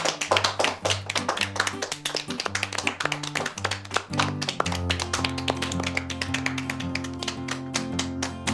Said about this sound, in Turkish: Hadi bir alkışlayalım kendimizi.